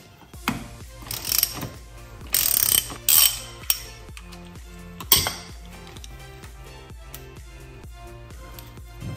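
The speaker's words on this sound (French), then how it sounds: "On enlève la deuxième maintenant, toujours avec notre douille" Ratchet and 6 mm socket working a rear brake pedal pivot bolt on a 2015 Yamaha FJR1300, with close, loud bursts of clicking and metallic rattles followed by a steady run of lighter ratcheting ticks, no talk.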